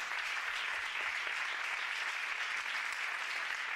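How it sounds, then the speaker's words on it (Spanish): Congregation applause during a Spanish-language sermon: a brief, steady wash of many hands clapping at once, even in level from start to end and moderately distant. "Dale un aplauso al que puede edificar tu vida."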